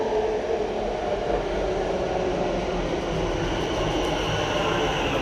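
Continuous rumble and rattle of a train rolling on rails, heard close from on board, loud and steady with a faint high squeal late on.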